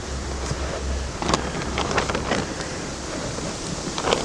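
Wind blowing across an outdoor beehive apiary, a steady moderate rush with gusty buffeting against the microphone and occasional low rumbles, no talking.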